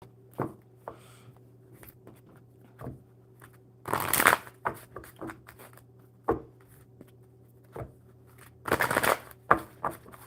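Tarot cards being riffle-shuffled by hand, two longer dense bursts of crisp flicking among scattered taps and soft handling noises over a steady low hum, close and quiet.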